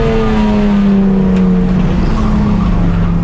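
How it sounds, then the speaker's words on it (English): A cheap race car's engine roars loudly at about 110 mph down a straight during a 24-hour race, a steady high-pitched drone that shifts slightly in pitch, with wind rushing throughout. "I'm flying down the straight at 110 miles an hour, passing a couple cars"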